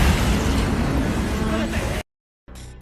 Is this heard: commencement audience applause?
no